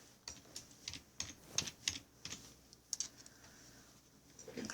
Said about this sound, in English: So we're going to actually type in her name, Airlie.